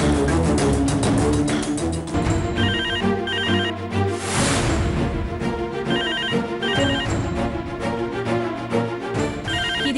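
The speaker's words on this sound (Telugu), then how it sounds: "ఇది ఖచ్చితంగా మంగమ్మ గారి ఫోనే" A landline telephone in a Telugu TV serial rings with a loud, repeating electronic ringtone melody that fills the whole stretch, with no talk over it.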